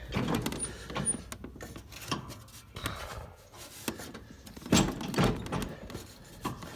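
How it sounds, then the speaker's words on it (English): A John Deere X324 riding mower's deck height adjustment lever is worked, giving a series of close metallic clunks, clicks and ratcheting knocks at irregular intervals. "Now you can adjust your height for your mower."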